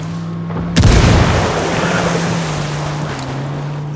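Grenade explosion in the Ghost Recon Wildlands video game: a single loud, sharp boom that breaks into a long rumbling roar and wind-like wash, with steady low hum from the game beneath.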